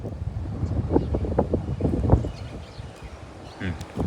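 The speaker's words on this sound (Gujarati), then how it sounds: "પવન એવો જ આવે છે અહીંયા" Wind gusts across an open borewell site where a 300-foot bore has been drilled, buffeting the microphone with a steady low rumble and occasional stronger surges.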